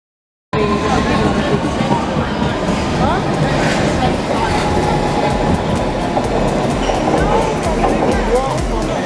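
A London Underground Metropolitan line train rumbles and rattles loudly, with clattering wheels and faint squeals, a constant roar from start to finish after a brief silence; people can be heard talking.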